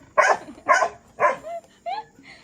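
Dog barks three times in close, sharp bursts, followed by a couple of high, whining whimpers, heard up close indoors.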